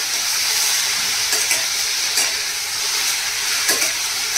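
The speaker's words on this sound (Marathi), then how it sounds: "पूर्ण आपल्याला ह्या तुपामध्ये हे छान फ्राय करून घ्यायचे" Beetroot, carrot, tomato and green chilli fry in ghee with a steady, close broadband sizzle, broken by a few brief stirring scrapes; no voices.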